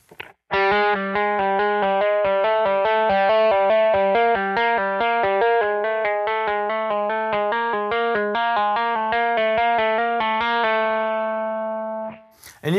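Electric guitar with effects plays fast, even legato trills of hammer-ons and pull-offs, a steady stream of quick alternating notes ringing clearly for about ten seconds before a final sustained note fades.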